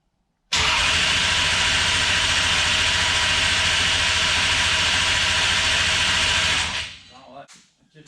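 A Suzuki RMX 250 motorcycle engine under restoration catches and runs loud and close for about six seconds as a continuous raw buzzing roar, then cuts off abruptly and dies away.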